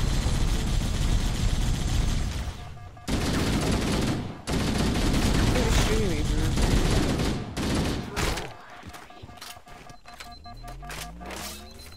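Rapid automatic gunfire roars up close in a Halo-style shooter video game, coming in sustained loud bursts broken by brief pauses. Scattered single shots and mechanical clunks follow as the firing trails off.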